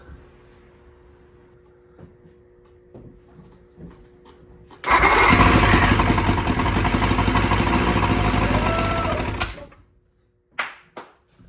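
After a few quiet clicks and knocks, the old outboard motor of a 1974 Starcraft boat suddenly catches and roars loudly for about five seconds, then cuts off abruptly, followed by a few thumps.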